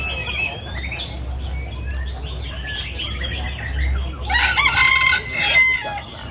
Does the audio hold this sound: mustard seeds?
no